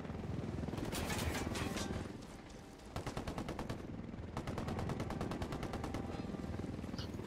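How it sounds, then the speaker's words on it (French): Helicopter arriving in the video game Ghost Recon Wildlands, its steady rotor thump pulsing rapidly for several seconds, loud and close amid bursts of machine-gun fire. "Attention, il y a un hélico qui arrive."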